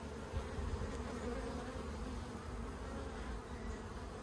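Honey bees buzz in the air outside hives in an Australian apiary, a steady droning hum with many overlapping insects, continuous and fairly faint, with no one talking.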